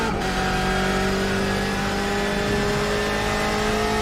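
A race car engine in a Le Mans racing video game drones steadily at high revs, a loud sustained whine with constant pitch throughout and no pauses.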